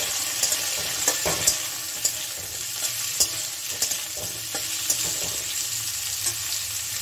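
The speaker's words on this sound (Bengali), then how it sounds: "এখন সবগুলো আমি একসঙ্গে একটু ভেজে নেব।" Carrots and onions fry in a pan, a continuous close sizzle broken by scattered scrapes and taps of a utensil against the pan.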